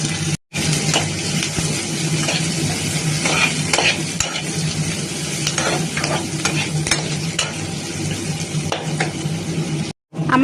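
Onions frying in a pan for ghugni, a dense loud sizzle with frequent stirring scrapes, close and continuous apart from two brief cuts to silence.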